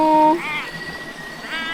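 A lost cat in an eerie, creepy spot meows twice, close and clear, with a short steady electronic tone just before the first call.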